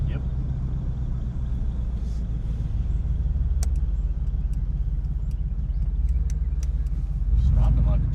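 A luxury travel van, parked for more than three years, drives along a road with a steady low engine and road rumble; brief ticks and clicks sound over it, and a heavier surge comes near the end.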